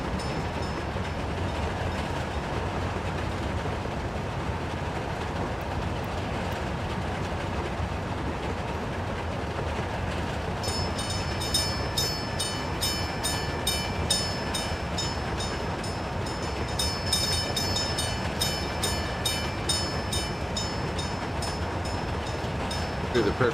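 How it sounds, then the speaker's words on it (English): A train runs through a city in the video game Workers and Resources, a continuous rumbling clatter with a rhythmic ticking rattle joining partway through, fairly close and steady, no talking. "No one's ever ridden a train in the city before."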